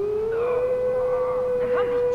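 Dogs in the video game Far Cry 4 let out a sustained, rising howl that holds steady like a siren, with further wavering canine cries joining in near the end, loud and without speech.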